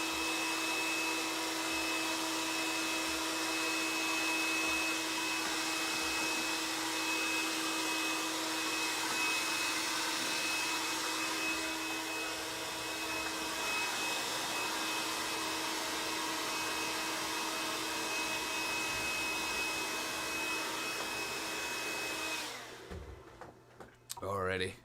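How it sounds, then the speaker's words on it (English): A hair dryer drones steadily with a constant whine for over twenty seconds, loud and close, then cuts off abruptly near the end with some clattering. "I'll get my hairdryer"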